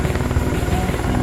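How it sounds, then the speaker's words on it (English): A heavy amphibious utility cargo helicopter in a video game, its rotor thumping in a loud, steady, close chop over a dense engine whine, with no other sounds on top. "this helicopter is amphibious and can land in the water and float"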